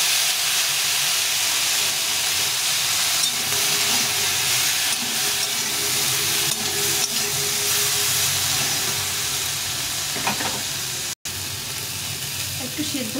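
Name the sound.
seeds simmering in water in a cooking pot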